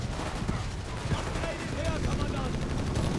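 Bursts of machine gun fire crackle through a Company of Heroes 3 battle between Wehrmacht and US forces, repeated rapid volleys amid a dense wash of distant combat noise, at moderate volume.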